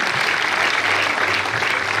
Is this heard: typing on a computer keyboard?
no